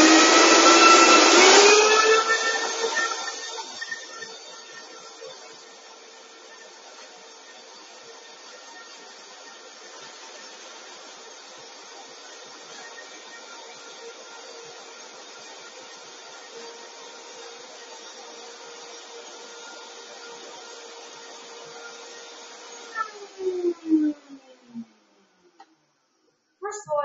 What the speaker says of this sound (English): So I'm putting in a little bit more oil, and then just blend that up again.